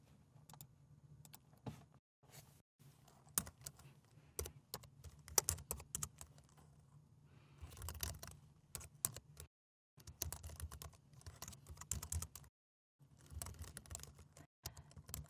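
Someone types code on a computer keyboard, the keys clicking close up in uneven bursts with brief pauses between runs. No one talks over it.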